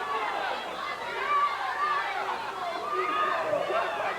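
A crowd chatters and murmurs at a wrestling event, a steady indoor hubbub of many voices at moderate loudness with no single standout sound.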